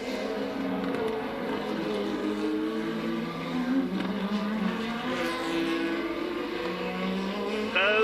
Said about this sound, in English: the British built and powered Tolman Hart with its 4-cylinder engine against Niki Lauda